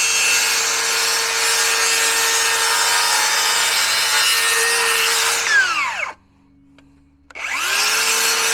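A saw cuts through wood for a Good Friday cross, loud rasping strokes running steadily and close, then a brief pause before the sawing starts again.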